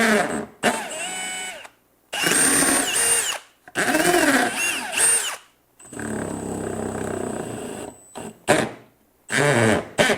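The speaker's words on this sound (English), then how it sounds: "in adding those screws, I'm going to do some pre-drilling." A power drill whirs in several short bursts, pre-drilling wood for screws, spinning up and stopping with brief pauses between, close and loud.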